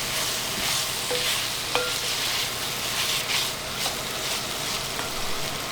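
Beef stew ingredients fry in a tagine beneath an extractor fan, giving a steady loud sizzle with occasional stirring scrapes and a faint clink, close up and with no talking.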